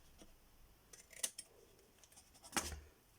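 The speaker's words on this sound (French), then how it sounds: "je vais prendre un petit ciseau, je vous conseille de couper en biais ici" Small scissors snip through paper card at a crafting table, giving a few quiet, crisp cuts with a short pause between them.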